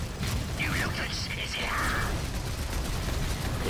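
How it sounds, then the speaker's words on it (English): Space Marines fire continuously in the strategy game Dawn of War 3, a dense, rattling stream of mechanical gunfire and clanks in the middle distance while a voice talks over it. "these Space Marines are just continuously shooting"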